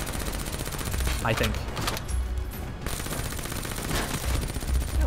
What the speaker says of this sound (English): Someone's shooting at me with a shotgun